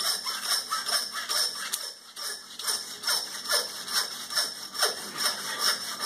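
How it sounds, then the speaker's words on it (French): Rhythmic back-and-forth sawing through a beef hip bone, steady rasping strokes repeating about twice a second, close up. "avec la scie, je vais couper l'os du coxal dessus"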